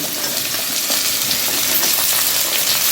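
Carrots frying in a pan, a steady close sizzle with faint crackling, continuous and without any speech.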